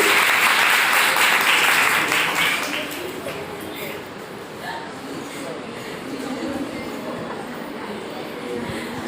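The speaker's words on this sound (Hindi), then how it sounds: "तो एक बार उसके लिए फिर से ताली" Audience applause at an Independence Day celebration gathering, loud and dense for the first few seconds, then thinning into scattered clapping and crowd murmur that carries on to the end.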